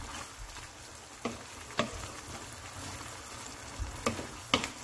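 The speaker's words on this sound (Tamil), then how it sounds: "நல்லா எல்லாத்தையும் மிக்ஸ் பண்ணுவோம்" Prawn curry with unripe tomatoes being stirred in a pan after milk has been poured in: a quiet, steady low simmering hiss broken by a few soft spoon scrapes and taps.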